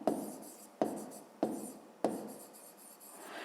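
Pen strokes on paper while writing out a 5th-grade maths exercise, four distinct scratchy strokes at a steady rhythm, close and fairly quiet, with no voices.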